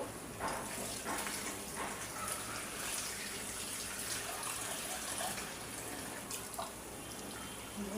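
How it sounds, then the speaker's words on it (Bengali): Water goes into a pot of fish curry cooked with taro and tomatoes, a steady gushing pour lasting the whole stretch at a moderate level, with no talking. "আর একটু জল দিয়ে দিব।"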